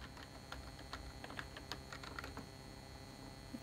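Quiet typing on a computer keyboard, a brisk run of light keystrokes tapping at an uneven pace, close and alone without speech.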